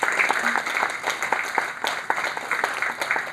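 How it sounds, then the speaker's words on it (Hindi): Steady crowd applause at a textile industry seminar as guests are presented with bouquets and mementos on stage: dense, continuous clapping from many hands, fairly even in loudness throughout, with no voices breaking through. "दोस्तों, आपकी तालियां बजती रहनी चाहिए."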